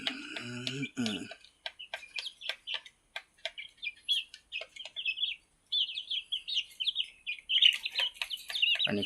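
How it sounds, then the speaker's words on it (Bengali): Young chicks on a poultry farm peep and chirp busily while eating, a dense run of high, rapid calls close by, with a voice briefly speaking at the start. "মুরগির বাচ্চাগুলো খাওয়া দাওয়া করতেছে"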